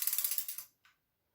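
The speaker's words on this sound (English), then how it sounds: "And everything clicks on." A Philips XD3100 vacuum cleaner's telescopic tube gives a rapid string of about ten bright ratcheting clicks as it slides, then one sharp final click as it locks into place, close and alone.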